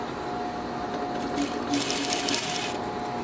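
Sewing machine stitching fabric for an infinity scarf, a steady close mechanical whir with a brief faster burst in the middle.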